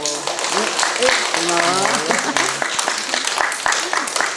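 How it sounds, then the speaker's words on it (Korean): A church congregation claps together during a Sunday worship service as children come forward to give gifts to grandparents, a steady wash of applause running under voices and bits of singing tones throughout. "우리 박수로."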